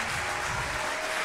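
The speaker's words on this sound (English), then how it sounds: "If you guys could give the Heinz Chorus another big round of applause." A school winter chorus concert audience gives a dense, steady round of applause, with many hands clapping at once filling the room, and no voices.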